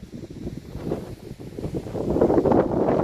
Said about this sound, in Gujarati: થોડીક જોરદાર પવન આવે, પાછો વરસાદ આવે.